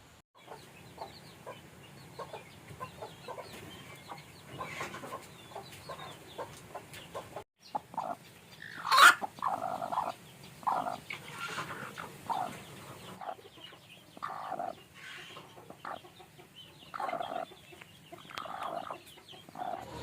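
Hens clucking softly in short repeated bursts, with a brief sharper squawk midway, over a quiet outdoor background.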